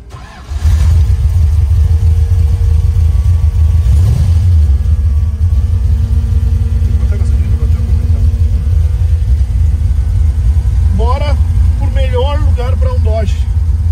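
A Dodge car engine catches and settles into a loud, steady rumbling idle close by, rising briefly with revs, while someone speaks over it.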